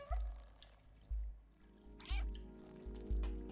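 A cat in a robot village meows a few times over steady low thumping footsteps or pulses, with faint background music underneath.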